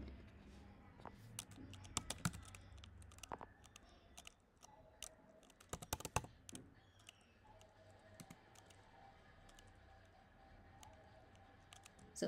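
Soft, irregular clicking of keys being typed on a computer keyboard, quiet and close, in bursts over a low background hum.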